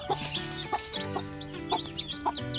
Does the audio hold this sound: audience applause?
no